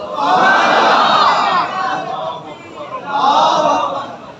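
A large crowd at an Islamic religious gathering shouts a slogan in unison, two loud surging bursts of massed voices with a brief dip between them.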